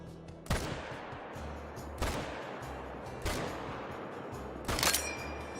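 Four loud rifle shots in theHunter, a deer-hunting game, crack out at irregular intervals, each a sharp broadband blast trailing into a rumbling outdoor echo, with low steady game ambience underneath.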